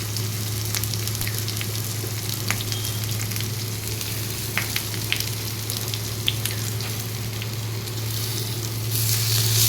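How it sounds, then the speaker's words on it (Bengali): Ginger, garlic and onion fry in oil for egg chowmein, giving a continuous close sizzle with scattered spitting pops and a low steady hum underneath. "দেখতেই পাচ্ছ আদা রসুন আর পেঁয়াজটাকে তেলের মধ্যে ভালো করে ভেজে নিচ্ছি।"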